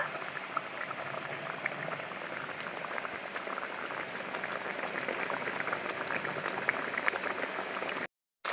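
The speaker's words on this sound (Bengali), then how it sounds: "বেগুন দিয়ে ভালো করে একটু ফুটিয়ে নেব" Eggplant and sesame curry boiling in a pan, a steady close bubbling and popping that runs unbroken almost to the end before a brief dropout.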